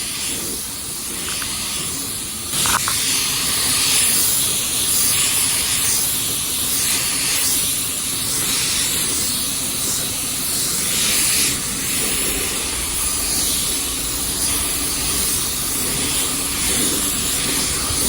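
A paint spray gun putting a coat of color on a car bumper: a steady, close, loud hiss of atomized spray in long continuous passes with slight pulsing, running alone without talk.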